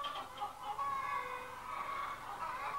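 A farm chicken clucks nearby in a short run of soft, broken calls, with almost no other sound around it.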